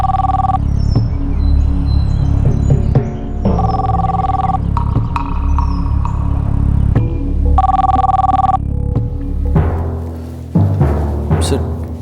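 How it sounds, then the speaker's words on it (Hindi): A telephone rings in several separate bursts of repeated electronic tones, loud and close, in a police officer's office in a TV crime drama, with a steady background bed between the rings. "सर, पुलिस हेडक्वार्टर से आपके लिए फ़ोन है।"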